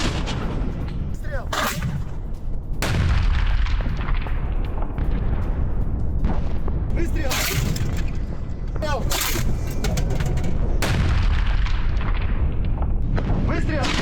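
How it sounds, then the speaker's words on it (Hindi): Russian mortar fire and high-explosive shelling in Robotyne: about five heavy, irregularly spaced blasts, each a sharp loud boom fading into a rumble over constant background noise. "रोबोटाइन में रूसी सेना के मोर्टार हमले, हाई एक्सप्लोसिव शेल से रूस की गोलाबारी"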